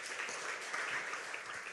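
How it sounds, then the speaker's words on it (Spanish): A church congregation breaks into faint, steady applause during a sermon, with no voices over it. "Denle un aplauso, Señor."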